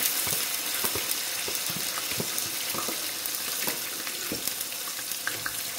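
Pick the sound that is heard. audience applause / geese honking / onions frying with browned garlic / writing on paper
onions frying with browned garlic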